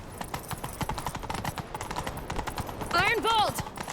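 Galloping horse hooves in The Witcher 3 video game pound in a rapid, driving rhythm, close and loud, joined near the end by a sharp horse whinny.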